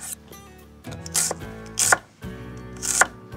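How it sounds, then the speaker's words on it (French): A knife slices a small red onion into thin rounds, three crisp cuts landing about a second apart against a board, close and clear with a faint steady hum underneath. "je vais couper en fines tranches un petit oignon rouge"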